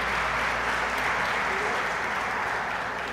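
Congregational clapping in a church spreads as a broad, continuous rush of applause, somewhat softer and more distant, with a low hum and faint murmuring beneath it.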